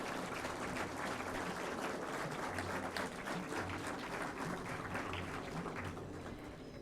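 Audience applause at an Engineer's Day ceremony, a dense continuous wash of clapping that stays steady and loud throughout, with a low hum underneath.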